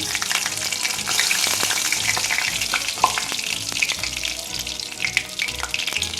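Dried red chillies, bay leaves and whole cumin seeds crackle in hot oil as a tempering for mung dal, a dense close sizzle with small pops and clatter, alone and fairly loud.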